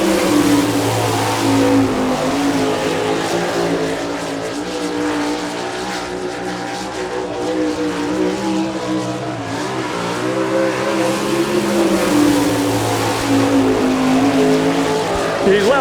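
Sprint car with a Stealth chassis and Gurney racing engine on a qualifying lap at an All Star Circuit of Champions race in Chillicothe, Ohio, its engine roaring loudly and steadily throughout, rising and falling as it circles the track.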